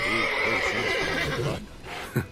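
Roach, the horse in The Witcher 3: Wild Hunt, gives a long, loud, wavering neigh that fades out, followed by a soft snort and a short sharp knock near the end.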